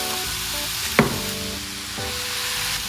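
Cabbage with soy sauce sizzles in a hot pan as it is stirred, a constant frying hiss with a sharp utensil knock and scrape of stirring partway through.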